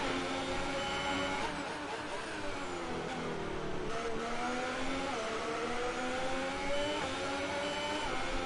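A Sauber Alfa Romeo Formula 1 car in F1 2018, with extra ERS deployment, screams in a high, continuous whine, its pitch climbing through gear changes and dipping briefly under braking, loud and close throughout.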